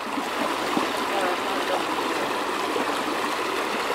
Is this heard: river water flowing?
yes